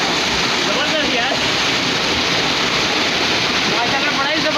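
Water gushes loudly and continuously at a bathing spot on a mango farm house near Kotri, Jamshoro, as a dense, steady rushing roar from up close.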